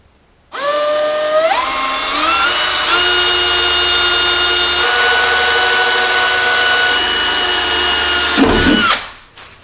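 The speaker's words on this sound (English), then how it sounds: "then I'll drill a hole and then put some sheet metal screws in" A power drill drills a hole in sheet metal in a Jeep Cherokee XJ, whining up to speed and holding a steady high-pitched drone for several seconds, then winding down with a brief grinding rattle.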